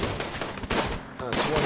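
Bursts of gunfire from a RimWorld colony firefight, several rapid shots layered over a dense game soundscape, with someone talking over the action.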